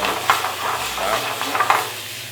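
Beef searing in a hot pan for picadinho, a steady close sizzle with a few stirring scrapes and clinks, and no voices over it.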